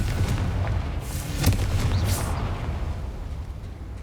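A Confringo fire spell from the video game Hogwarts Legacy goes off as a loud booming blast with a sharp burst near the middle, over a dense, rumbling battle background.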